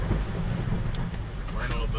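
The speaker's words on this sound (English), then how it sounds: "We're in a little bit of a storm." Heavy rain pours down steadily on a car and tent during a monsoon-like thunderstorm, a dense continuous wash with faint low rumbling underneath, close and loud throughout.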